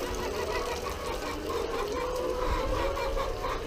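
Chickens clucking inside a farm chicken coop, a busy overlapping chorus of close clucks and calls over steady barnyard background noise, continuous throughout, with no talk.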